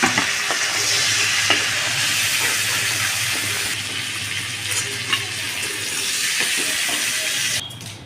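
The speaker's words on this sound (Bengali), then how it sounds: "মাছটা ভাজা হয়ে গেছে আমি উঠিয়ে দিচ্ছি" Steady crackling sizzle of fish frying in hot oil, continuous and close, with a low hum underneath and a few light clinks.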